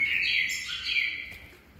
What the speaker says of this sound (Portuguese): Essa aqui é outra fêmea de coleiro, papacapim do peito branco.